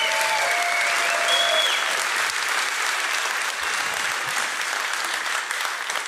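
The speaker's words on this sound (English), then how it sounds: "I just want one last round of applause for Mark" A conference audience applauding for a speaker named Mark, a dense, sustained wash of clapping from a large crowd with a brief faint tone near the start.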